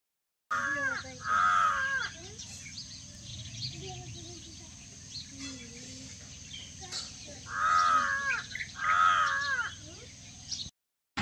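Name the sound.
crow cawing from a pole near the house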